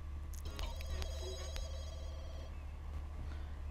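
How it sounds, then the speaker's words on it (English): A Sims 2 game phone rings in a synthetic trilling pattern, several short bursts of bright tonal chirps over a low steady game hum, with faint background game noise and no clear speech. "Someone's calling. Will you answer the phone?"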